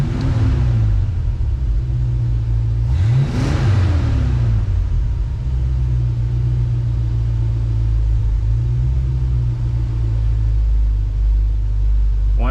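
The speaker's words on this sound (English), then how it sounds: "we'll give it a little bit of throttle and just make sure it balances back out." A 1966 Mustang idles steadily with a fuel-injected engine, deep and loud, rising in a short throttle blip near the start and a second one midway before settling back to a constant low idle rumble.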